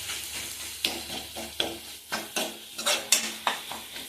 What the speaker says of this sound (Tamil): ஒரு 5 நிமிஷம் அதை வதக்குங்க.